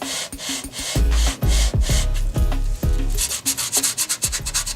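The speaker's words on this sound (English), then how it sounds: "As you're sanding nice and slow, you have more control." Hand sanding on wood furniture to repair a chip: close, rhythmic rasping strokes, roughly one per half second, slow at first and quickening into shorter rubs near the end, with no talk.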